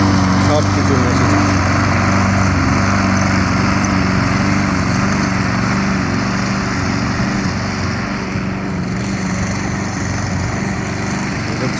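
A twenty-year-old petrol-powered mower drones loudly and steadily throughout as it cuts grass and dirt, its engine close and unbroken from start to finish.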